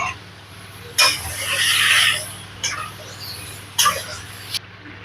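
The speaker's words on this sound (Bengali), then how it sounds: "এখন আমি আলু পটলটা দিয়ে দিলাম" Pieces of potato and pointed gourd drop into a pan for a paneer curry, giving three sharp bursts of rustling, spattering noise at close range with a low steady hum beneath and quieter stretches in between.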